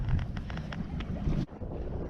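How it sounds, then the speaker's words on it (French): Wind buffets the microphone aboard a small sailboat on a sunny outing, a steady gusty rush with brief dips, close and fairly loud. "Le vent il est un peu monté, pas beaucoup quand même"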